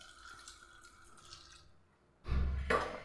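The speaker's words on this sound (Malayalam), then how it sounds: "ഇതിലേക്ക് നമുക്ക് വെള്ളം ഒഴിച്ചു കൊടുക്കാം." Water poured into a pressure cooker during cooking: a short, close splashing pour that begins abruptly near the end, after quiet kitchen background.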